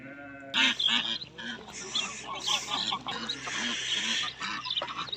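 Several ducks quack in a noisy, overlapping chorus close by on a farm, with other farmyard sounds mixed in throughout.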